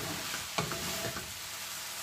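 Spring roll vegetable filling is stir-fried over a high flame, a quiet steady sizzle with a few light scraping stirs and no talking.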